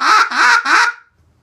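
An old bill-collector duck call is blown in three loud, nasal, reedy quacks in quick succession, close up, trailing off into silence.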